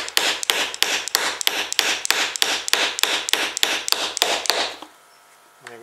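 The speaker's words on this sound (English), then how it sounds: "And that will allow me to tap the axle down." An axle for a small pulley-driven electric car is hammered down while held in the gap between pliers, producing about fourteen sharp, evenly spaced metallic taps at a steady brisk rhythm, close and loud, then stopping into quiet.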